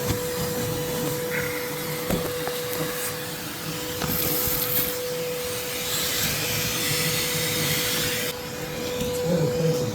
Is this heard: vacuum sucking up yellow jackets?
yes